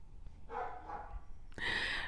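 Dogs barking in a home, two or three sharp yips and barks close by with a louder bark at the end, no talking.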